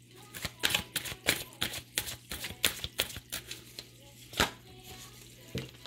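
Tarot cards being shuffled in a series of quick, crisp riffling clatters and taps at close range, arriving in irregular bursts with short pauses, with no talking.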